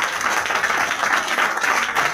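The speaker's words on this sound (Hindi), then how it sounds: "क्यों बजा रहे ताली?" Steady applause from a large audience at a Hindi motivational talk, dense and continuous clapping filling the whole stretch without pause or voices.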